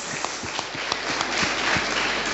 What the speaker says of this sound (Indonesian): Mari yang semangat kita berikan tepuk tangan